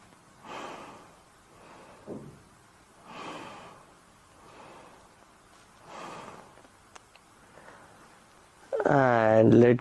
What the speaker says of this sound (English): Keep breathing in and out.